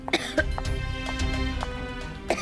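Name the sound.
coughing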